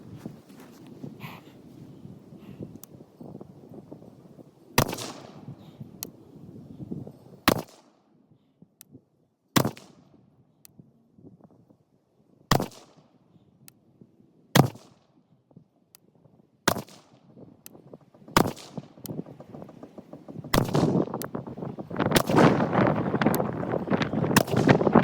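A rifle fitted with a Vortex Razor 1-6 scope firing a ten-shot group outdoors: sharp, loud single reports spaced a few seconds apart, with quiet handling noise and faint rustling between shots.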